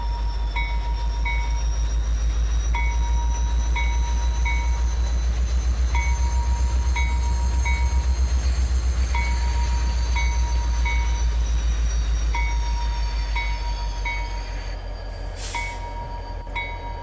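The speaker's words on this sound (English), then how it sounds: "I do like the train noise." A locomotive rolls on placeable railroad tracks in Farming Simulator 22, a loud steady engine drone with a regular chiming ding repeating about every second and a half, then a brief hiss near the end, with no talk.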